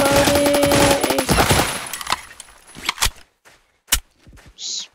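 Rapid video game gunfire bursts rattle loudly at first, then break into a few scattered single shots with gaps of near silence between them.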